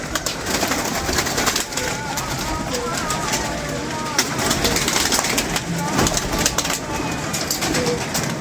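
Pigeons coo softly from a loft through a constant busy background wash, faint and partly buried, while people talk nearby.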